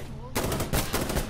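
Rapid automatic gunfire in the video game Insurgency Sandstorm, a loud close burst of repeated shots starting after a brief quiet moment and continuing to the end.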